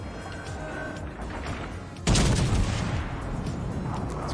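A sudden loud burst of naval gunfire from a warship's armor-piercing salvo in World of Warships Legends, a broadband boom that erupts midway and rumbles on over steady battle background, with no talk.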